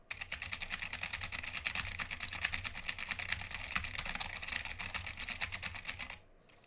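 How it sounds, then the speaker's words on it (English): Rapid computer keyboard typing fills the space with dense, continuous clicky keystrokes, close and steady for about six seconds before stopping abruptly. "Oh man, my keyboard can get pretty loud too."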